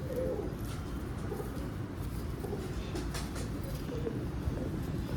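Pure Teddy breed pigeons cooing in a loft, a soft, steady low murmur of coos that continues throughout over a constant background hum.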